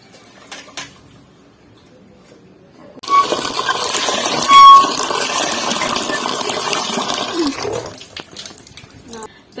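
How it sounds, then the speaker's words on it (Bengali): Wheat grains are rinsed in water for homemade chocolate Horlicks, with a steady, close sloshing and splashing wash lasting several seconds after a quiet opening with a few small clinks. "গমটা এখন আমরা ভালো করে ধুয়ে নেব"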